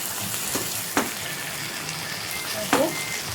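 Ginger, garlic and whole spices sizzle in hot oil with deeply browned onions, a steady close frying hiss broken by two sharp stirring scrapes.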